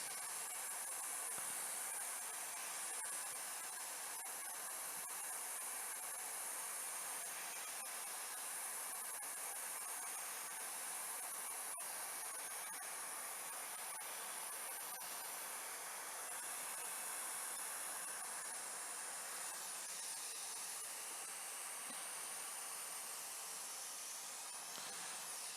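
Hot air station blowing onto an Xbox One circuit board around the HDMI port during PCB repair, a steady close hiss of airflow held evenly throughout with no break.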